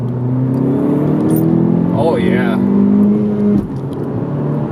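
A 10th gen Honda Civic Si, reflashed, pulls hard in second gear with a loud, steady engine drone whose pitch climbs, then dips at a shift near the end, while someone speaks briefly over it.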